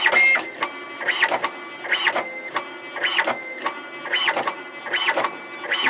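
A refurbished DataCard 150i card machine embosses cards in a multi-card run, with a loud repeating mechanical cycle of clattering strikes and whirring feeds about once a second, close up with no talk.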